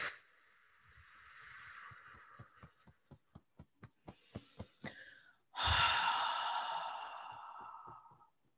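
A deep breath drawn in and then blown out in one long, close exhale during a guided energy-clearing session, the breath loud and breathy with no talking over it.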